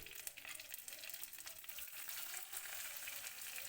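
Crushed ginger and garlic fry in a pan of hot oil with mustard seeds and curry leaves while moru curry is being made, giving a soft, steady sizzle and crackle close by with no talking.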